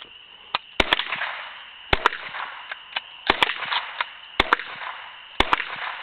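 Sharp cracks of .303 rifle shots, several irregular reports spread across the stretch, some close together, each with a quick decay over faint background rustle.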